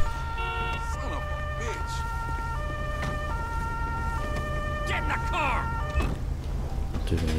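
Police car siren in the video game GTA 5 with a German police mod, a steady wailing tone stepping between pitches under road noise and game sounds for several seconds.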